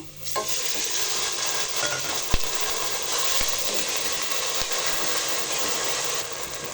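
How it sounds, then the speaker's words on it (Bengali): Marinated chicken pieces frying in a hot pan, giving a loud, steady, close-up sizzle that hisses without a break throughout, with a couple of brief knocks or clinks of a utensil against the pan. "ম্যারিনেট করা চিকেনগুলো আমি 3-4 মিনিট ভেজে নিব"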